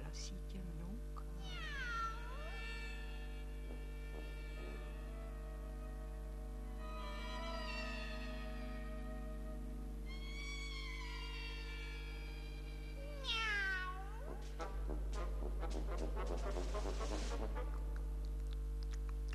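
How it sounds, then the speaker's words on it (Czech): A cat meows loudly several times in long, wavering cries, with a steady hum underneath and a voice speaking between the meows. "A proč najednou tak hlasitě mňouká?"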